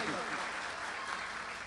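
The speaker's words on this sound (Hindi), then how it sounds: "तालियां आनी चाहिए आपकी।" Applause from a mushaira audience, a dense steady wash of clapping that fills the whole moment at moderate level, with no single claps standing out.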